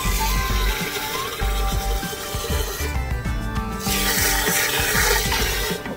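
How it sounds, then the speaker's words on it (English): Water poured into an Intex sand filter tank already partly filled with sand, producing a close, steady splashing rush with rubbing, gurgling texture and a brief dip midway. "Some water in there so it can settle."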